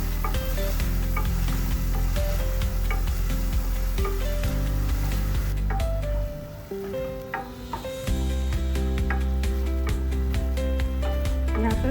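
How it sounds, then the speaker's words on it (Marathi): Finely chopped onion sizzles steadily in a pan while being sautéed soft for Rajasthani dal baati, a continuous frying hiss under prominent background music. "बारीक करून तो चांगला मऊ होईपर्यंत छान परतून घेऊया"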